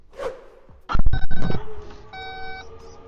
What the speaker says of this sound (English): Is all that beeping really necessary?